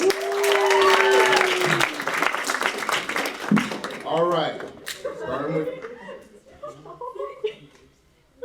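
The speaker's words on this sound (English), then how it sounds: "Give them a round of applause" Applause and chuckles from the audience at a poetry slam rise loudly at first, then thin out as a voice talks over the fading claps and scattered laughter.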